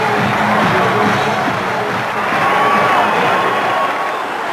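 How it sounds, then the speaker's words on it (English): A large crowd at Gibraltar's National Day in 1996 cheers for Chief Minister Peter Caruana, a dense, loud roar of shouting and whooping that holds steady throughout. "there are plenty of cheers, too, for Peter Caruana, the Chief Minister"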